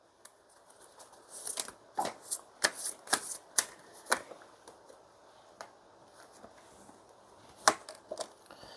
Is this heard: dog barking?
no